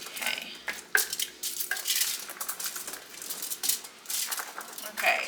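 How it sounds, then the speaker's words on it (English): Metal tongs toss olive oil through vegetables in a pan, making repeated clinks, scrapes and rustling clatter in uneven bursts, with a faint sizzle underneath. "Use my handy dandy tongs to get that stirred through so I don't have to use my hands every single time"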